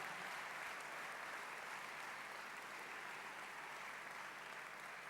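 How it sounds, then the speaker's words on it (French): Audience applause at a political party president's speech in a hall, a steady wash of clapping from a large crowd that stays fairly faint and distant throughout, with no talking over it. "Vous pouvez les applaudir, ils le méritent largement."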